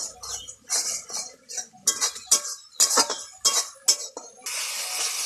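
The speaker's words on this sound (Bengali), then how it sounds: "এবারে আমি দিয়ে দেবো চার মগজ বাটা, সামান্য কষিয়ে নেব।" A metal spoon scrapes and clinks in a pan as melon seed paste is stir-fried for a vegetarian navratan curry, with sharp close taps in an irregular rhythm and a brief hiss of frying at the end.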